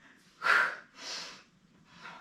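A fitness instructor breathes heavily during a core workout, with three distinct breaths close to the microphone: a sharp forceful exhale followed by two softer, longer breaths.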